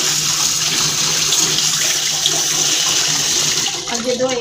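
Water pours and splashes steadily from a tap while a muddy tub is washed in a Punjab village, a continuous close gushing with slight spatter that eases toward the end.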